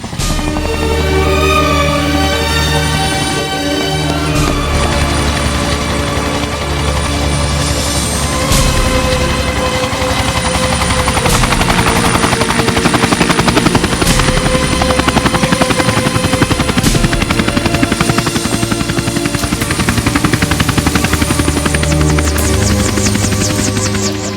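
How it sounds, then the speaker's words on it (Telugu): A helicopter lands in a Telugu film scene, its loud rotor throbbing steadily with engine whine and hum across the whole stretch, close and continuous with no talk over it. "ఆల్రెడీ హెలికాప్టర్ ల్యాండ్ అవుతూ ఉంటుంది"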